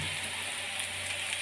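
Potatoes and onions frying in a pan, with a steady soft sizzle and crackle running the whole time at low volume, no talking.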